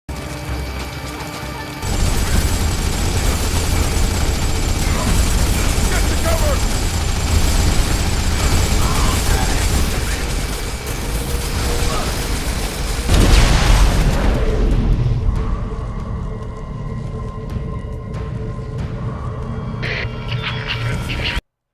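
Rocket fire and explosions in the 2008 shooter Turok, heard as a dense roaring, clattering mix of weapon noise with a heavy boom midway, continuing loud throughout.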